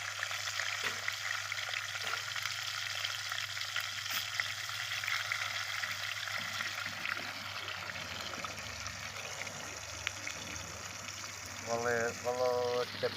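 Food frying in a pan at a campsite, a continuous loud sizzle and crackle of hot oil that fills the whole stretch, with brief faint voices near the end.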